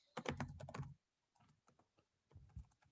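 Quick bursts of typing on a computer keyboard, a dense run of close clicks followed after a pause by softer, sparser keystrokes.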